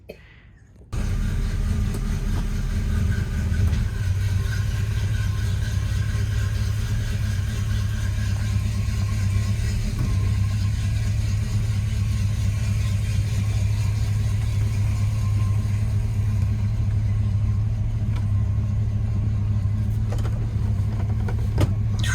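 A car engine idles steadily and close by, its low droning hum starting after a brief quiet moment and holding evenly throughout without any voices.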